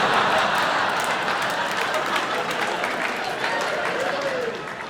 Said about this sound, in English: Put your hands together for Christopher Macarthur-Boyd.